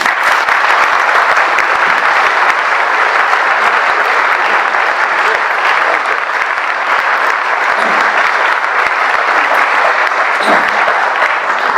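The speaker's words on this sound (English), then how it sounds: "thank you for that applause" An audience welcoming speaker Martin Fletcher to a talk in San Miguel de Allende with sustained, loud, dense applause that carries on steadily without letting up.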